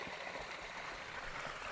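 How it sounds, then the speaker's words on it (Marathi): A large waterfall at Kalanidhigad fort in Chandgad taluka sends up a faint, steady rush of falling water, heard alone from a distance. "हे बघा आपण आता धबधबा दिसलो बघा किती मोठा भरपूर"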